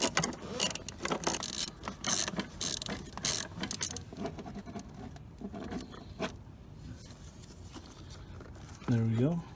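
Ratchet on two 1/4-inch extensions turning 12mm bolts, with bursts of quick close clicking at the start that give way to fainter clicks and rustling, a short whine near the end.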